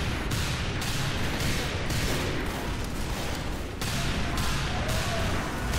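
Dense, continuous gunfire rattles without pause in Team Fortress 2, with sharper shots cracking at intervals as a player fires at a pyro using critical hits.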